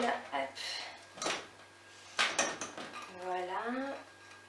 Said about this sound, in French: Alors je mets mes dattes dans ma casserole